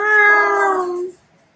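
A domestic cat lets out a single drawn-out, clear meow up close, fading away into near silence at the end.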